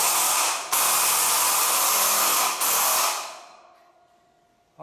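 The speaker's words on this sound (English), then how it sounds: "Now it's just a job of screwing all these down." A Milwaukee M12 Fuel driver drives screws into a roof truss, giving loud, steady high-pitched whirring bursts broken by two short pauses before winding down into quiet.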